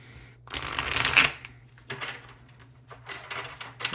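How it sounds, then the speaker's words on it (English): Tarot cards shuffled up close: a loud riffle burst, followed by softer slides and taps of the deck, with no talking. "And one more good shuffle after that one."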